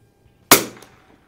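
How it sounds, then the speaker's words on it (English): A single sharp .22 rifle shot from an H&R M-12 target rifle firing Aguila ammunition at an outdoor range, close and loud with a short decaying tail and a faint echo. "Really shooting good with these Aguilas."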